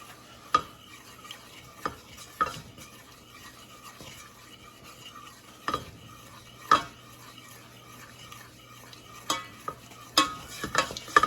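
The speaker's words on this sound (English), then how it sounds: "The most important part of making a roux is to be constantly stirring, constantly keeping it moving" A butter and flour roux is stirred steadily in a pan, a soft scraping swirl with a light sizzle underneath and occasional sharper clicks of the utensil against the pan, close up with no talking.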